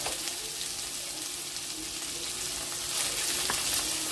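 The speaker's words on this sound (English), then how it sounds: "we're gonna go ahead and add the onions and the garlic." Onions and garlic frying in a pan over medium heat, a steady dense sizzle hissing continuously throughout, swelling slightly louder near the end, with a faint stir or tap in the background.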